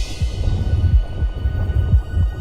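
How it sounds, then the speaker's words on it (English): A deep, throbbing heartbeat sound effect booms through a cinema preview for Avatar: The Way of Water, with steady low thumps at a slow, regular pulse over a humming background. "I can hear the heartbeat."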